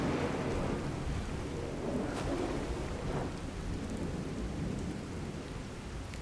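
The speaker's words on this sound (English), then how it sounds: "It's very stormy today, I don't like it." Steady rain and rolling thunder in a Fallout 4 thunderstorm, a continuous wash of rainfall with low rumbles swelling and fading underneath, no voices.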